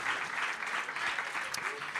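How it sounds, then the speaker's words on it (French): Audience applause at a live comedy show in Montréal, a short stretch of steady, dense crowd clapping heard at moderate volume. "On les applaudit."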